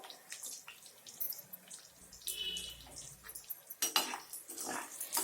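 Chopped onions go into a pan of frying garlic for a greens thuvaiyal, with a soft hiss under quiet clatters and scrapes of utensils against cookware.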